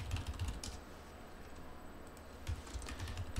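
Fingers tap out a search on a computer keyboard, a quick, soft, steady run of close key clicks with no voices.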